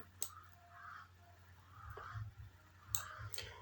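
Sharp, isolated computer mouse clicks while working in image-editing software, a few distinct clicks spaced over several seconds against a quiet room hum.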